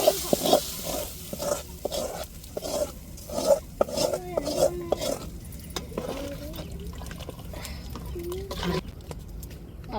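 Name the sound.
tomatoes frying in oil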